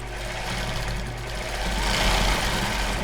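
A sewing machine runs steadily at close range while reverse stitching, sewing a crossover-base bra, with a constant motor hum and dense stitching rumble that swells slightly toward the end.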